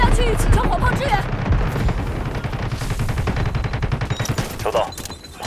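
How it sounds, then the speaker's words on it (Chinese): Rapid, dense gunfire and booming artillery impacts pound steadily during a match of the Delta Force Mobile war game, with a rattling fusillade of shots and voice chatter mixed underneath. "收到，炮击即将抵达。"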